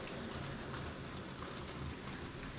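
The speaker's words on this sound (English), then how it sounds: "While I'm waiting on the rain" Steady rain patters on a greenhouse under construction, a dense even hiss of drops with no pauses, faint and continuous throughout.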